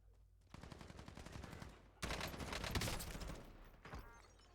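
Bursts of automatic gunfire in Call of Duty Warzone, a rapid rattling volley followed by a louder, denser stretch of shooting, close and intense, with faint voices underneath.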